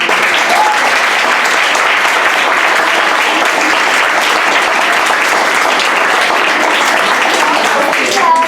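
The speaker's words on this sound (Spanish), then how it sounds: "Un fort aplaudiment." Loud, sustained applause from a school audience after a theatre performance, dense clapping with no break at an even level throughout.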